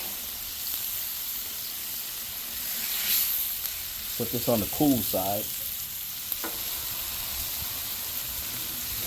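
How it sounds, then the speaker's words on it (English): Food sizzles steadily on a Member's Mark Pro Series 5-burner griddle, a constant frying hiss with a few scraping stirs, while a person speaks briefly over it. "even the cool side is still sizzling"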